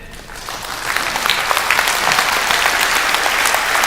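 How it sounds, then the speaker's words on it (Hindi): An audience at an insurance business seminar bursts into applause, dense steady clapping that rises quickly and holds loud for several seconds, no voices heard. "चलिए एक बार ताली बजाइए।"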